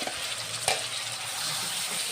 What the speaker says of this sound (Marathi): ही आमची साबुदाण्याची पेस्ट आहे ती आम्ही तुपात घातलेली आहे